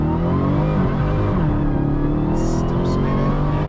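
A Dodge Challenger Demon muscle car launching on a runway: a loud, close engine roar that climbs steadily in pitch as it accelerates hard, with a brief hiss near the end.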